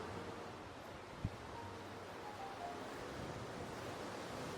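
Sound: sea waves at Andaman islands

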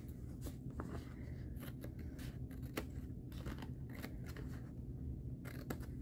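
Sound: scissors cutting off edges of a craft piece

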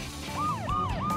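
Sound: ambulance siren

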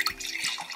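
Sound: pouring cold brew coffee into a glass

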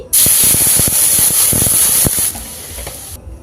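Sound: water poured into a hot wok, sizzling

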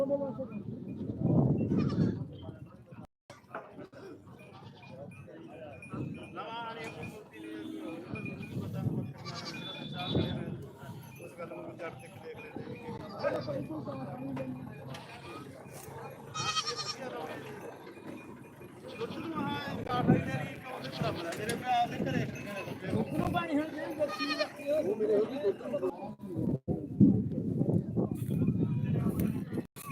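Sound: goats bleating at the Dhanaula goat market

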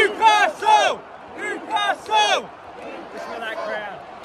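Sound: rugby league crowd chanting for Newcastle Knights

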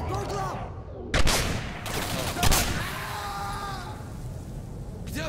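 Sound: gunfire in the video game Singularity

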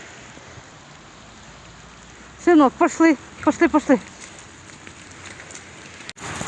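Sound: heavy rain pouring in the street

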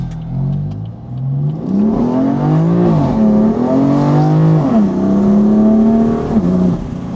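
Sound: BMW M4 revving with new downpipe exhaust

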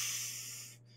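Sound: voice imitating a geyser releasing hot steam

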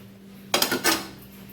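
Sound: mashing raw banana in a pot

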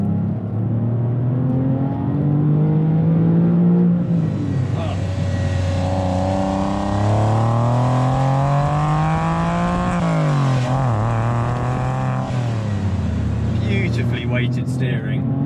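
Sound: Porsche 911 (996) engine revving on winding road

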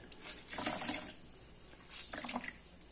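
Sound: wet cloth being wrung out, water dripping

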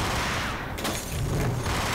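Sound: Beretta pistol gunfire in the video game Max Payne

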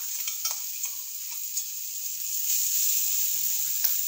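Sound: frying and stirring potatoes with ginger garlic chili paste

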